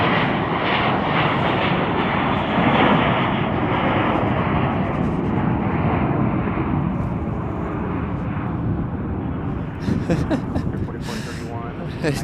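A Boeing 737-900ER airliner at Chicago O'Hare gives a loud, sustained jet engine roar that holds steady for most of the time and then fades slightly near the end, with faint voices in the background.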